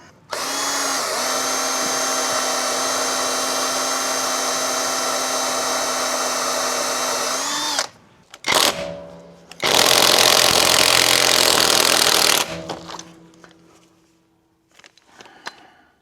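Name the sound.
drill bit drilling into a lug nut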